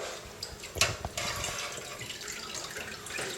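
Water drains off a raw turkey lifted from a pot, splashing and trickling steadily, with a few louder sloshes near the start, close by and fairly quiet.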